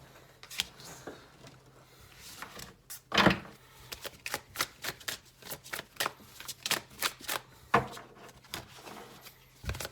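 Tarot cards being handled and shuffled, with a fallen card picked up, giving a string of crisp snaps and soft slaps of card stock at an uneven pace, close and fairly quiet, with no speech.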